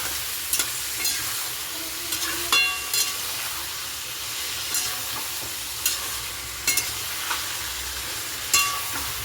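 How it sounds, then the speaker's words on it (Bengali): Meat stirring and frying in a pan for a biryani, a steady close sizzle broken by several sharp scraping stirs at irregular moments, with no talking. "এবার নেড়ে নেব মাংসটাকে একটু ভালো করে ভেজে নেব"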